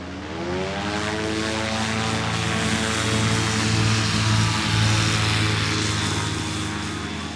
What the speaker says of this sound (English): Got 2 aircraft on final.